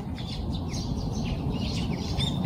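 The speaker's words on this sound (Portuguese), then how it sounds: "Olha os passarinhos cantando, escuta." Small birds sing and chirp outdoors on a bright morning, with repeated short tweets and trills over a steady low background hum, at moderate distance and without talk.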